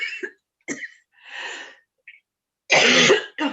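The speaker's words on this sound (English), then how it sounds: "I'm just going to have a cough." Coughing during a full council meeting: a few separate close coughs and throat clearings with short silent gaps, the last burst loudest and longest.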